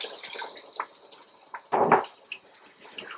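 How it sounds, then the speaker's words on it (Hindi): Water poured into a pot of boneless dum chicken curry that already holds milk: a short splashing pour lands amid scattered drips and light clinks, close and fairly quiet, with no voices. "और इसमें जाता है पानी 1 कप जितना आप इसमें पानी डालेंगे।"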